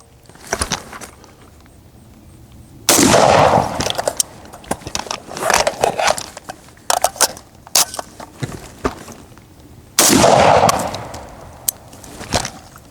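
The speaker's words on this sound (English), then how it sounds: "we're gonna fire one round, do a mag change, fire another round" Two loud FAL rifle shots ring out several seconds apart, with rattling and clicking of a magazine change between them during a rifleman kit drill outdoors.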